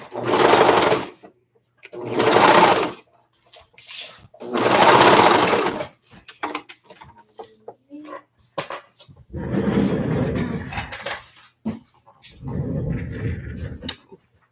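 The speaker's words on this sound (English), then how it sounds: "this one is my cover stitch. So it does like a double needle stitching on the top with an overlock stitch on the back" Cover stitch machine running in several bursts, sewing a double-needle top stitch with an overlock on the back, making a steady mechanical whir. The runs are loud and separated by short pauses, and quiet handling noises fill the gaps.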